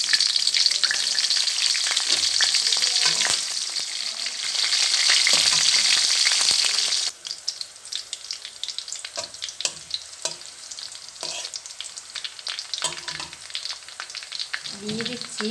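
Chilli slices drop into hot oil with whole cumin and set off a loud, dense frying hiss that lasts about seven seconds, then thins to a softer crackle broken by spatula stirs and scrapes.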